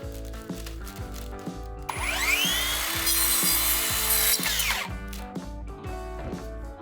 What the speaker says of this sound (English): I'll cut the edge of one to use as a ruler.